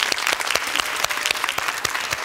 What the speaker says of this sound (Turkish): Onlara kocaman birer alkış istiyorum